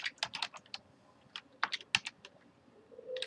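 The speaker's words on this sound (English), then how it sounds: "I could type in the email address of the individual person that I wanted to share it with" Keys clatter on a computer keyboard as an email address is typed in, a quick irregular run of close, crisp clicks with short pauses between bursts.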